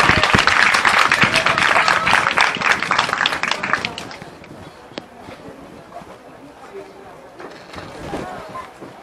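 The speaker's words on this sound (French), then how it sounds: "Alors on applaudit bien fort," An audience at a cosplay contest during a convention breaks into loud applause that rings out for about four seconds and then fades, leaving faint crowd murmur and scattered sounds behind.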